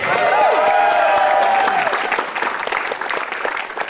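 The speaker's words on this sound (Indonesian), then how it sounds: "Tepuk tangan untuk Jui Purwoto" An audience at a stand-up comedy show applauds loudly for a comedian, with thick clapping and some cheering that gradually thins out over a few seconds.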